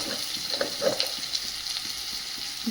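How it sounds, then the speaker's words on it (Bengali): Onion, ginger and garlic fry with chopped tomato and spices in a pan, giving a steady close sizzle with occasional soft stirring scrapes and no talking. "আদা রসুন ভালো করে ভেজে নিয়েছি পেঁয়াজের সঙ্গে। এবার দিয়ে দেবো টমেটো কুচি।"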